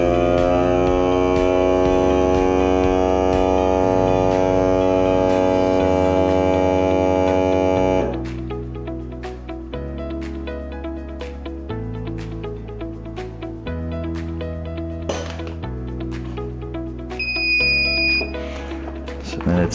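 Pac Food VS12 portable vacuum sealer drawing air from a bag, a loud steady motor hum for several seconds, then a lower, shifting drone with a short beep near the end.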